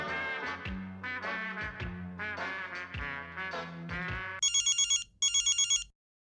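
A telephone rings in a domestic scene from an Indian TV comedy, two bursts of a trilling electronic ring near the end, coming after a melodic tune of music.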